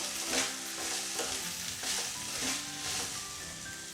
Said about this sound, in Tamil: நல்லா காய் வதங்கட்டுங்க. ஒரு நிமிஷம் அப்பப்போ கிளறி விட்டுட்டு இருங்க.